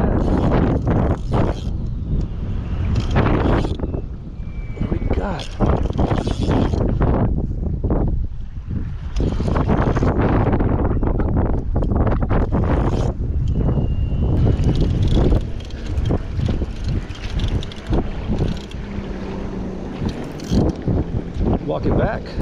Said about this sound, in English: The wind is dying down